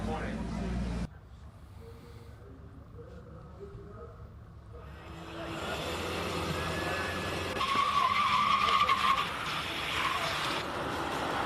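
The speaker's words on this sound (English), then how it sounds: "That is a lot of braking from that Suzuki Swift." A Suzuki Swift race car roars past and its tires squeal sharply under heavy braking at a hill climb, heard from a distance amid steady outdoor track noise.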